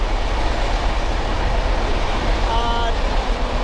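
The Rupasi Bangla Express runs on rails with a steady, continuous rumble heard from inside the carriage, loud and unbroken, with a faint squeal near the end.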